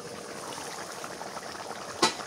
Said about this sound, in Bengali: ঢাকনাটা উঠাই।